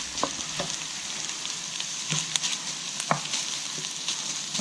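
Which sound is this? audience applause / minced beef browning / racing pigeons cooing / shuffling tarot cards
minced beef browning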